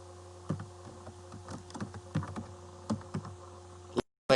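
Computer keyboard keys clicking in short bursts of typing, close and fairly quiet, while entering a search into a map site, with a brief silent gap before a final louder tap.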